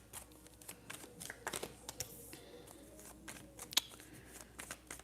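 Tarot cards are shuffled by hand in quiet, soft riffling and tapping bursts, close and faint, with no talking.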